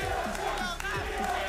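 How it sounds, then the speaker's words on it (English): Esports arena crowd at an NA LCS League of Legends match chanting the TSM team name, with rhythmic massed voices repeating across a short stretch. "As almost always, TSM chants are currently the loudest"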